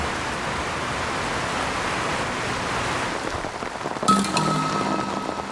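Steady, dense hiss of a heavy tropical rain shower on a Pacific atoll, falling close by, constant and enveloping, with a brief brighter splash and patter near the end.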